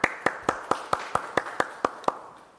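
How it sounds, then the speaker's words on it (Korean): Sparse, distinct handclaps from a small forum audience welcome a speaker, with about nine claps in a loose rhythm that fade out. "박수로 맞겠습니다."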